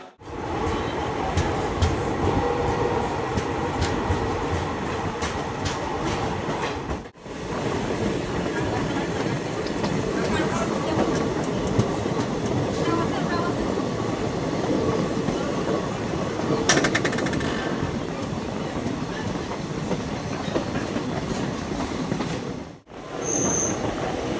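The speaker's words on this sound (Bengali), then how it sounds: "এই হচ্ছে আমাদের ট্রেন, পুরো একদম অন টাইমে আমাদের ট্রেনটি" A passenger train from Alipurduar Junction to Bamanhat runs on time near New Cooch Behar, with steady close rumbling, wheel squeal and rhythmic clatter over 24 seconds, two brief dropouts, and a voice talking at times.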